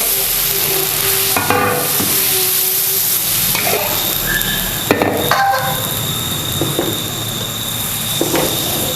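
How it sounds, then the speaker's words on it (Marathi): Fasting dosa batter spread over a hot pan and roasting, a steady close sizzle with occasional scrapes and clinks of a utensil against the pan, no talking. "आपल्याला हे भाजून घ्यायचं आहे"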